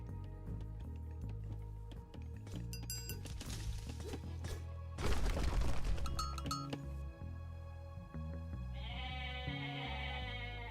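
Goats bleat in the Age of Mythology strategy game, several short calls rising near the end over a dense bed of game music, clinks and unit sounds.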